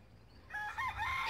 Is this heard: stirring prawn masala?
no